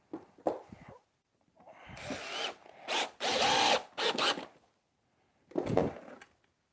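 A power drill drives screws into wood on a Tie Fighter model build, several short bursts of close whirring separated by pauses, with the motor rising and falling as each screw goes in.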